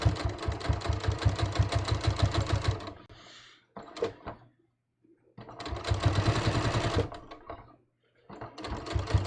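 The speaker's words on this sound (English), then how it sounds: "I'm going to edge stitch along the bottom to hold the welt down" A sewing machine edge-stitching the hem of linen knit shorts runs in two steady rapid bursts of close, loud mechanical stitching, separated by a pause with brief handling noises.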